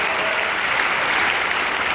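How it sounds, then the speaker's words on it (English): A crowd applauding steadily, dense clapping filling the whole stretch at an even, loud level. "Give yourselves a fantastic round of applause."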